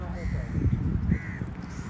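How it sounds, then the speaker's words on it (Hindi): Crows caw in Jeddah, two or three harsh close calls over ambient outdoor noise, with someone talking over them. "ये कौवे घूम रहे हैं"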